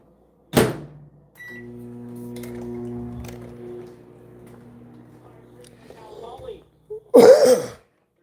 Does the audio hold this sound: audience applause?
no